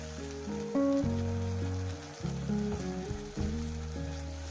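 Chopped tomato and spices fry in oil for a spinach and pointed gourd curry, giving a soft, even sizzle that runs throughout with music playing underneath.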